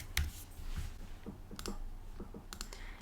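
Quiet computer keyboard typing, a few soft scattered key clicks and taps with pauses between them, close and alone.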